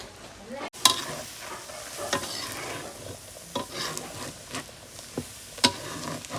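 Quiet scraping stirs of a spoon through thickening homemade milk in a pan for peda, with soft sizzling underneath and a few sharper utensil clinks against the metal.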